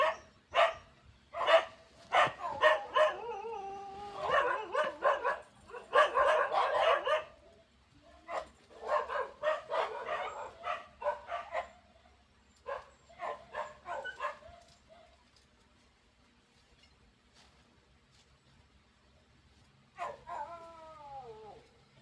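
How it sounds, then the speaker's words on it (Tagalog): Several dogs bark and howl in loud, repeated bursts for about fifteen seconds, then fall quiet before one dog gives a final drawn-out howl. "Napakaingay ng mga dogs."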